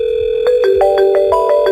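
A VoIP softphone places a test call to a 3CX phone system, giving a loud, steady electronic dial tone with regular pulsing beeps and rising tonal steps, close and clean with no talking.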